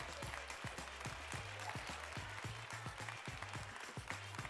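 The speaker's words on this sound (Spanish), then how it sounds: "Un aplauso, por favor, a estas familias para que se animen" At a Christmas gathering, a crowd applauds arriving families with loud, rhythmic clapping. Individual claps fall in a regular beat, layered over a busy room.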